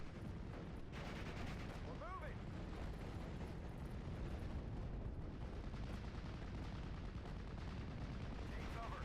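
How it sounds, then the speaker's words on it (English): Machine gun fire in the World War II strategy game Steel Division, a Normandy hedgerow mission, with continuous dense gunfire and distant explosions rumbling throughout under occasional talk. "I need to get this machine gun in position to suppress these guys."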